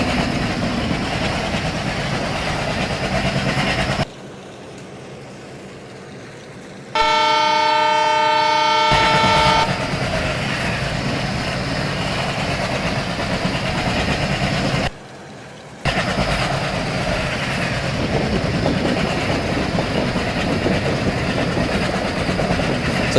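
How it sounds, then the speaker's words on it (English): Diesel train running at high speed in the Indian Railways Train Simulator game, a loud continuous rumble with a sustained horn blast partway through and brief drops to near silence. "So right now our train just rushing towards for the next stop of Bhongir at platform number 2."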